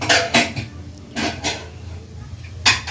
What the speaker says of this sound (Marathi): म्हणून तो कुकर आता ठेवून घेते